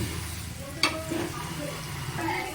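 Onions fry in a pan for a Bengali bhola fish curry, a steady soft sizzle running throughout with a single clink of a utensil and faint stirring, no one speaking.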